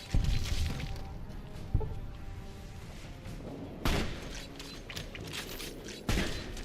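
Heavy anti-materiel rifle shots in Fallout: New Vegas, three or four sharp booming reports spaced a couple of seconds apart, each with a brief ringing tail over a low mechanical background.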